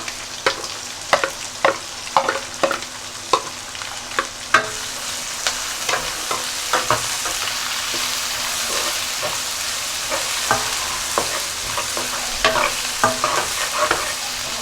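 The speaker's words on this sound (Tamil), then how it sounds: "வெங்காயம் கருவேப்பிலை எல்லாத்தையும் போட்டுக்கலாம்" Onions, curry leaves and capsicum fry in a pan with a steady sizzle, and a spoon scrapes and stirs in repeated sharp knocks, close and fairly loud.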